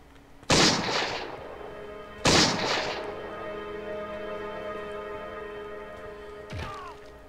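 Two heavy pistol shots ring out in a horror video game, each a loud boom with a long resonant tail, followed later by a fainter thump.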